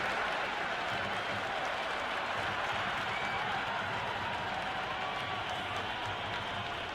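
Crowd in the stands of a T20 international cricket match in the Cricket 26 video game, Sri Lanka versus Pakistan, a steady dense roar with scattered clapping and cheering, continuous and even throughout.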